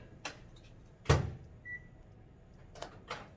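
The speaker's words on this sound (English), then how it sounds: "We're going to microwave it one more time for 30 seconds." A microwave oven heats a gummy mixture while quiet clicks and a firm clunk of the door are heard, along with a short beep, all faint and close, with no talking.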